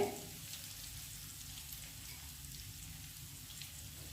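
Onions fry in oil in a pan, giving a soft, steady sizzle with faint crackling that stays quiet and even throughout.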